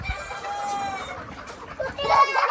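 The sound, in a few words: chickens clucking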